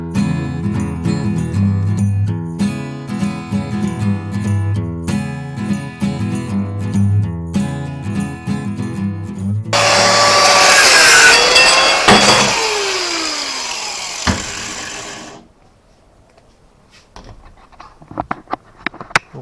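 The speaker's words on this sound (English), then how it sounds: "I'm just going to cut a little slither off there." A hand tool cuts a small slither off scrap metal clamped in a vise, a loud harsh rasping burst of about five seconds that stops abruptly, preceded by music and followed by near silence with a few faint clicks.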